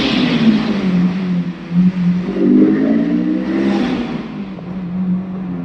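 A Honda S2000 AP1 engine fitted with an aftermarket intake revs steadily and loudly for several seconds, a continuous close drone that swells and eases slightly with no voices.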